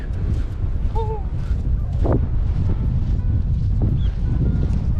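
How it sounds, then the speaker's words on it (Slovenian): Strong wind blowing along the Abel Tasman coast in New Zealand, a steady loud roar buffeting the microphone throughout, with a faint bird call and a brief voice in the background. "Piha kot pri norcih."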